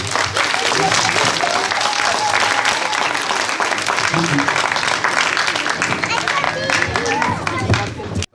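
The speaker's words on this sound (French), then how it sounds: "Allez, on peut les applaudir" Audience applause at a school film festival in southern Aisne, France, dense and sustained clapping from a crowd with chatter mixed in, ending abruptly.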